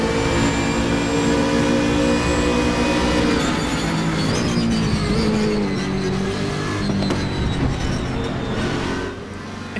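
A race car engine in the RaceRoom racing game roars at high revs during a career race at the Nürburgring, a loud sustained whine with shifting pitch that stays near and dominant throughout, without talk.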